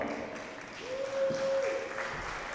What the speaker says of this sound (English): All right, round of applause one more time